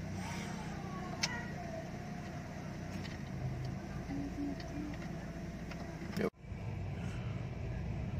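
A used Chevrolet Aveo hums steadily through a test drive, its engine and road noise continuous in the cabin with faint ticks, then briefly cut off before resuming.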